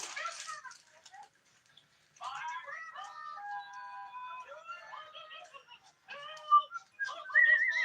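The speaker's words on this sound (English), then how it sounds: "people say, is me whistling all the time" A person whistles melodic tunes at moderate volume during a live crochet stream, in phrases broken by short pauses.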